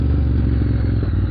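Motorcycle exhaust pipes rumble steadily during a ride, a continuous low, loud engine drone with slight clattering texture and no voice over it.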